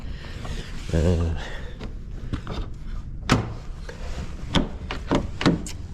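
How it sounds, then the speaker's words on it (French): A stuck car door is tugged and rattled repeatedly. Dull clunks and a few sharp metallic knocks sound up close, with a voice heard alongside. "Est-ce qu'on va réussir à l'ouvrir la putain de porte?"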